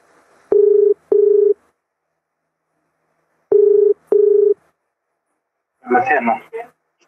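Telephone line tones for an incoming call on a TV phone-in show: two pairs of short, clean beeps separated by silence, followed by a brief burst of a voice at the end.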